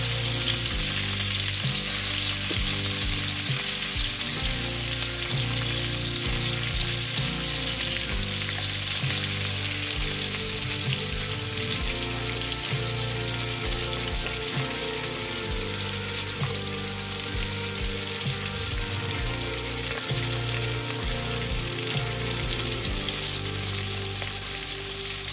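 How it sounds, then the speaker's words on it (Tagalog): Whole garlic cloves fry in a pan, giving a loud, steady sizzle with crackling pops that holds unbroken and up close with no talking. "Niluluto na lang natin dito yung ating bawang na buo"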